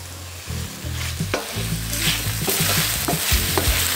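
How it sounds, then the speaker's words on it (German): Home-grown champignon mushrooms fry in a pan with a close, steady sizzle, broken by repeated scraping and stirring strokes throughout; no one speaks. "Und es fängt langsam an zu braten."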